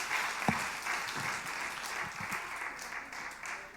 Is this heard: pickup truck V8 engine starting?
no